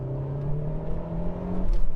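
A Toyota MR2 turbo engine accelerates with a steady, rising drone that climbs smoothly in pitch. The sound grows slightly louder and rougher near the end, and no one speaks.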